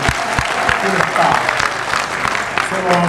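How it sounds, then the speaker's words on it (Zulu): An audience applauds at a formal civic gathering honouring a provincial MEC and a mayor, steady clapping filling the hall throughout, dense and fairly near, with a brief raised voice mixed in. "shaya ihlombe ke shale umhlonishwa ihlombe kakhulu"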